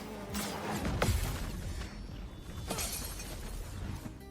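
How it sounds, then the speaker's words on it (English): A thin, hollow glass-like shatter sound plays as a melee riposte fails to land in a video game, a short crisp crash that fades quickly, followed by a second softer burst, with no voices. "instead of a nice, impactful riposte, I get this baseless, boring glass sound"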